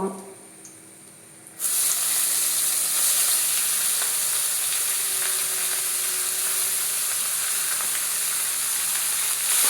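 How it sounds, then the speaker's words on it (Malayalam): Chopped onions hit a hot pan and break into a loud, steady sizzling hiss that holds evenly for several seconds after a brief quieter start. "ഇനി നമുക്ക് സവാള അരിഞ്ഞത് ചേർക്കാം"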